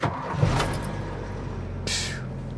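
A 300 engine in an old Ford bullnose truck, freshly converted from a one-barrel to a two-barrel carburetor, runs steadily up close with a smooth low rumble and a brief higher whoosh near the end.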